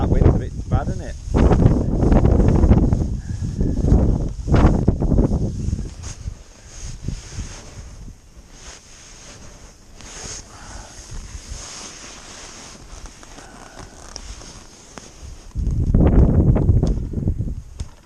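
Gusty wind blows outdoors at a fishing venue during a match fishing qualifier, loud buffeting microphone rumble rising and falling in strong bursts at the start and end, with people talking at times.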